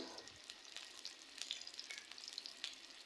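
Shrimp dropped into a hot pan for a bottle gourd curry, sizzling and spitting steadily at close range with scattered sharp pops over a continuous frying hiss.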